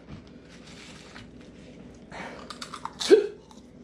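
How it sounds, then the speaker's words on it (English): A single sharp hiccup bursts out near the end, after eating a Paqui One Chip Challenge spicy chip, preceded by faint breathy mouth noises and small movements. "Hiccups."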